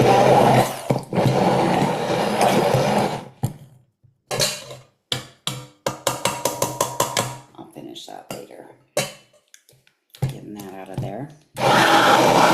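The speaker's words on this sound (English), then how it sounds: "I just take my immersion blender" An immersion blender whirs through fresh tomato spaghetti sauce in a home kitchen, running in loud sustained bursts at the start and end with choppy stop-start pulses in between.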